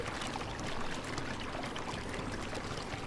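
Steady, loud rushing water from a waterfall in a side-scrolling video game, a constant full-band roar that continues unchanged throughout.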